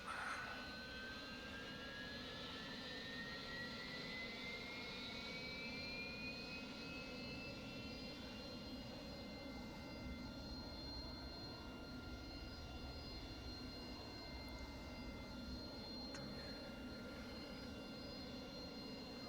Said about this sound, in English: Engine is spooling up.